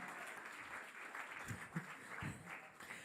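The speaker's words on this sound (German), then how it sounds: "Großen Applaus für die 3 Jungs von Hastruppe, Simon, Jan und Lennart." Audience applause at a music contest final for a three-piece band, faint and distant, with a few louder low thumps standing out near the middle.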